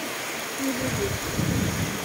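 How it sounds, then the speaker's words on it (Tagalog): Heavy rain pours steadily outside a house as the sky suddenly darkens, a dense continuous hiss with faint low rumbles underneath and a few brief voices in the background. "Lakas ng ulan, biglang dumilim."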